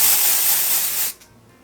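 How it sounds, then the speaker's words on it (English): Dry shampoo hisses from an aerosol can into hair in one loud, close, steady burst lasting about a second, then cuts off abruptly to near quiet. "It's a great dry shampoo. I'm going to spray it in my hair"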